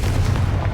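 A Confringo blast spell goes off in the video game Hogwarts Legacy, a short, heavy, booming burst that fills the whole moment.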